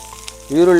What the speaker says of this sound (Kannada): ಕೊಕೊನಟ್ ಆಯಿಲ್ ಹಾಕಿ ನಂತರ ಅದಕ್ಕೆ ಹಾಕಬೇಕಾಗಿದ್ದು ನಮ್ಮದು ಕಟ್ ಮಾಡಿರುವಂಥದ್ದು ಈರುಳ್ಳಿ